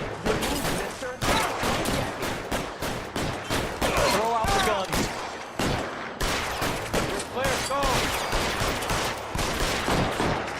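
Rapid bursts of gunfire crackle through a shootout in L.A. Noire, with repeated sharp shots and volleys firing in uneven clusters, loud and close throughout, with voices calling out briefly amid the shooting.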